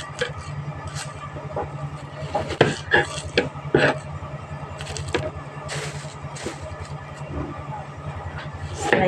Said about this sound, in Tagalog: prepare po natin ang sibuyas at saka bawang. Slice po natin ito